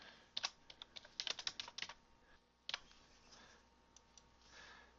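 Fingers tap out text on a computer keyboard in quick clustered bursts of close, crisp key clicks, then a pause and a few scattered final taps, with no talk.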